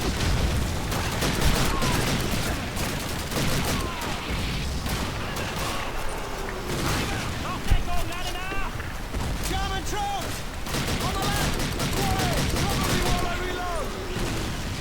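Call of Duty 2 battle gunfire: a dense, continuous fusillade of rifle and machine-gun shots with distant booms and ricocheting whines throughout, while voices talk over the din.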